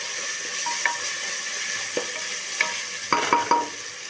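Ginger garlic paste frying in a pan for a potato brinjal curry, a constant close hiss broken by a few spatula scrapes and crackles near the end.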